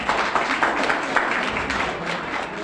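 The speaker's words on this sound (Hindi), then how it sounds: "तालियां होनी चाहिए।" An audience at an award ceremony bursts into sustained applause, dense clapping from many hands at moderate distance, steady throughout with a faint voice in the background.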